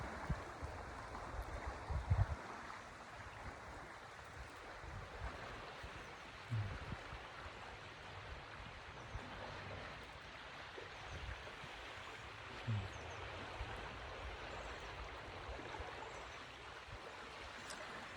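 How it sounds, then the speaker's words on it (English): A creek flows through a park with a steady, even rushing wash that lasts throughout. A few soft low thumps fall under it, and no one speaks. "Here, let you look at the creek a little bit."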